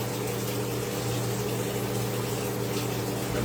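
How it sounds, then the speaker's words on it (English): A kitchen faucet runs steadily, a dense, loud rushing hiss of water with a low hum beneath, continuous and unbroken with no talk. "Turn the faucet off."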